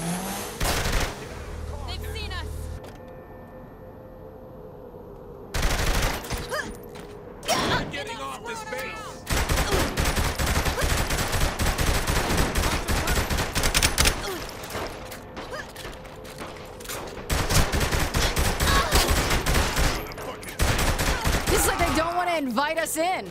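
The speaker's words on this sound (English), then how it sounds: "Shooting them probably doesn't help change their mind!" Repeated gunfire bursts from Saints Row The Third Remastered, loud sustained volleys with mechanical clatter filling most of the stretch after a quieter opening, with a few separate shots in between.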